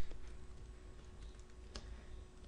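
Quiet, quick keystrokes on a computer keyboard tap out a short irregular run of clicks, close and alone with no talking.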